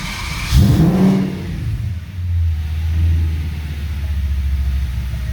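Audi RS6 V10 Avant engine firing up with a brief loud rev, then settling into a low, steady rumbling idle.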